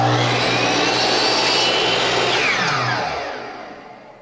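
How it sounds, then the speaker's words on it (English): A miter saw cuts wooden pieces to length for a contemporary chest of drawers. The motor gives a loud, steady high-pitched whine for about three seconds, then spins down and fades. "it just takes a couple seconds here at the miter saw to cut each of the pieces to length."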